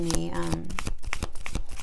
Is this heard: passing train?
no